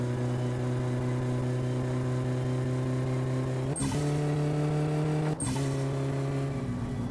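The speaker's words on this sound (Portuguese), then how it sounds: "Se a turbina encher, ó." Turbocharged Gol car engine in My Summer Car revving hard with a loud, steady mechanical drone, broken twice by brief gear shifts and turbo blow-off hisses before the revs climb again.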